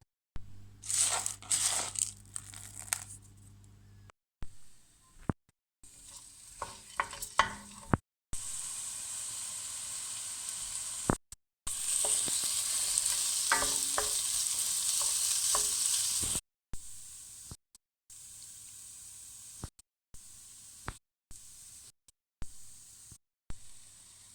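Red lentil Ezogelin soup is stirred in a pressure cooker pot with black pepper and lemon juice added, giving scraping, sizzling spoon strokes in short bursts separated by silent gaps.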